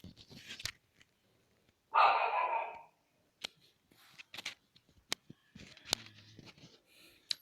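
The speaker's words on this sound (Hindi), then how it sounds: "वो बगल में मेरा टॉमी बैठा हुआ था और उसने भूख भौंक दिया" A pet dog sitting nearby lets out one loud, sharp bark burst lasting about a second, then scattered faint clicks and small noises in an otherwise quiet room.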